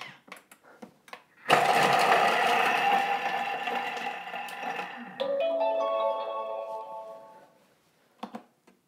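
A Thermomix chops a halved onion at speed 5, starting abruptly with a loud whirring blade and rattling for several seconds, the pitch shifting partway through before it stops, with light clicks before and after.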